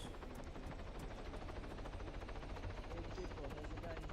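A helicopter in a video game hovers with a steady rapid rotor chop, low and fairly faint in the mix, with players talking over it.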